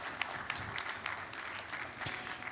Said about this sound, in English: please give another round of applause to our speakers and moderator